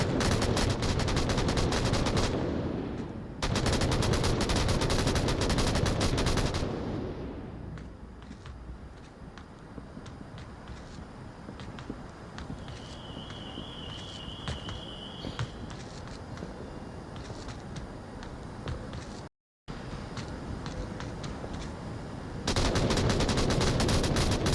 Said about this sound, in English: Shots being fired around and around and around again.